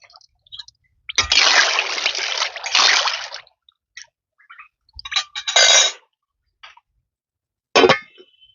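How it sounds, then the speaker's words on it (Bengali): Dry pasta drops into a pot of boiling salted water with a little oil, giving a couple of loud splashes and sloshes followed by a brief lid-like clatter, close up with quiet gaps between. "এবার পাস্তাটাকে দিয়ে ঢাকা দিয়ে সেদ্ধ করে নেব।"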